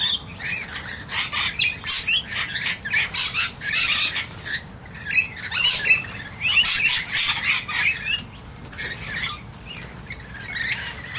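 Rainbow lorikeets at a bird sanctuary keep up a dense, continuous chorus of shrill squawks and chirps, close and loud, with occasional wing flutters and no talking.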